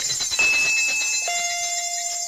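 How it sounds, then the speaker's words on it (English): Doorbell chime in the visual novel game Higurashi: a steady electronic tone that shifts to a second, lower pitch partway through, sustained over a dense bed of game music or ambience. "The bell rang."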